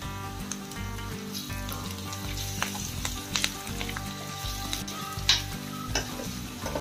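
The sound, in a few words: curry leaves and chili frying, sizzling in hot oil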